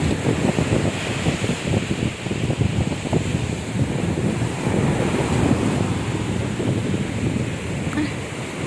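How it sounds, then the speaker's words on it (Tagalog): Strong wind buffets the microphone over a steady roar of large ocean waves crashing and surging continuously nearby. "Malakas pa rin ang hangin at malalaki ang alon."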